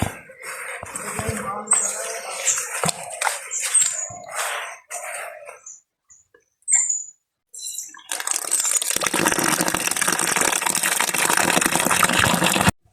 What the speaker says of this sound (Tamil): நல்ல வடிவாக அலசி கழுவணும்